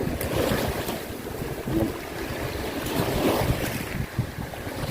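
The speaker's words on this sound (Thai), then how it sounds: "น้ำโยกพี่น้องน้ำโยกมาพอดี" Waves wash in at the salty Dead Sea shore in Israel, a steady rolling surge with gusty wind buffeting the microphone, close and fairly loud throughout with no talking.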